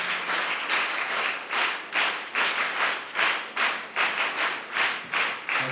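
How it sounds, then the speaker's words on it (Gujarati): An audience at an Independence Day celebration claps in unison, a steady rhythmic beat of about two claps per second that keeps going throughout, fairly loud and full, with no voices over it. "તો આપણે તમામ માટે એક વખત તાળી પાડીએ"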